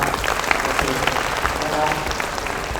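An audience at a trading seminar applauds an event partner, a steady wash of clapping that holds at an even, moderate level from start to finish with faint voices mixed in.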